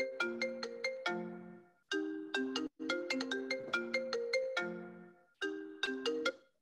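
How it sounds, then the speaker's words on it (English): A mobile phone ringtone sounds during a council meeting, a bright repeating melodic chime pattern that plays in steady phrases with short pauses between them, clear and alone. "And I thought I turned my phone off."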